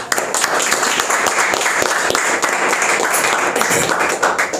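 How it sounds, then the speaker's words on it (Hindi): Loud, dense applause from a church congregation before Sunday evening worship, a steady wash of many hands clapping close by and filling the room without a break. "तो क्यों ना हम आराधना शुरू करने से पहले जोरदार तालियां दें परमेश्वर के लिए।"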